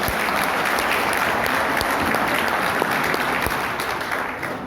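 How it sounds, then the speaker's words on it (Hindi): Seminar audience claps together in a dense, loud, continuous round of applause that holds steady and tapers slightly at the end. "एक बार नए मेहमानों के लिए जबरदस्त तालियां हो जाए।"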